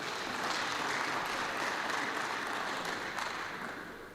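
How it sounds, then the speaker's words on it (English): A book launch audience applauds in a sustained, even wash of clapping that sounds somewhat distant and moderately quiet, tapering off slightly near the end. "I think that deserves a round of applause."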